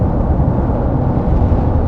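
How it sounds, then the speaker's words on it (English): A pitched-up cosmic rumble from the Big Bang rolls on as a dense, loud, unbroken low roar, heavy in the bass and steady throughout. "Shockwaves from the formation of the universe rippled through space, creating a cosmic rumble deeper than anything our ears could detect"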